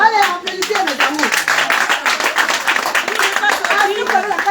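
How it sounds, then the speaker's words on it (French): Clapping hands from a group at a French-speaking charity gathering, a steady patter of claps running throughout with voices talking and calling over it. "Allez, applaudissez mes amours."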